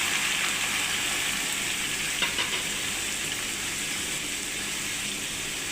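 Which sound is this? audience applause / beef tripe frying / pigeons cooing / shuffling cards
beef tripe frying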